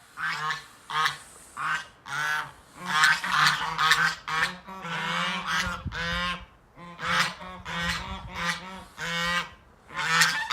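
Several geese honk loudly and repeatedly in uneven bursts at a dog, close by, with brief gaps between calls.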